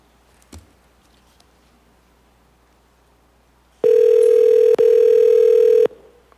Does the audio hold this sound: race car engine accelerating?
no